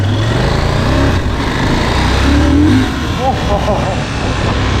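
A KTM Duke motorcycle engine hums and revs steadily while the bike is ridden and shifted through gears, with people talking loudly over the running motor throughout.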